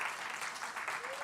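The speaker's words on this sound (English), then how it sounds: "Can we give Rochelle and Kamara another round of applause?" An audience at a Sunday church celebration claps together in a dense, steady patter of applause, moderately loud and sustained, with a faint voice rising briefly near the end.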